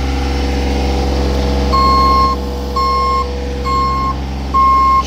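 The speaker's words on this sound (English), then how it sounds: "Trailer that you can just drive with a joystick." Diesel-powered Hogg and Davis Hydra 985 cable reel trailer running with a steady low engine drone, while four evenly spaced loud reversing beeps sound close by.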